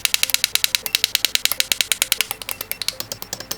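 Battery spot welder firing repeated welds onto 18650 cells, a rapid steady train of sharp, loud clicking pulses, roughly eight per second, close and continuous with no talk.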